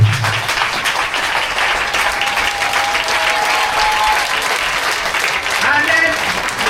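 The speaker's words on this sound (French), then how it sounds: "La maman demande qu'on se tienne debout pour acclamer pour Dieu" A church congregation in Bouaké claps and cheers in praise, loud sustained applause filling the hall with crowd voices mixed in.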